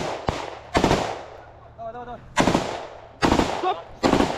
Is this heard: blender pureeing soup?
no